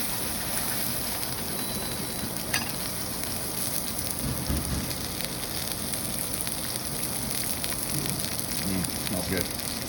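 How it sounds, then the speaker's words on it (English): Beef pot roast searing in a hot oiled pan, with a steady, loud, dense sizzle and crackle that holds evenly throughout with no pauses. "we're going to sear this for about 5 minutes on all sides"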